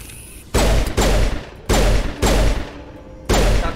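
Loud, close bursts of automatic gunfire in the video game Mass Effect Legendary Edition, four sharp volleys of rapid shots separated by brief pauses, each burst cutting off abruptly.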